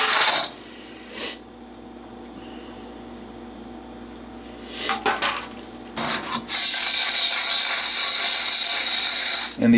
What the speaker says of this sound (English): Just going to dump it over this strainer here.